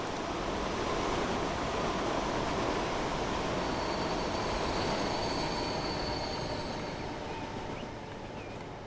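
A Virgin high-speed train passes in the Transport Fever 2 video game, with a steady loud rolling rumble and faint high wheel squeal throughout, easing slightly toward the end, with no speech.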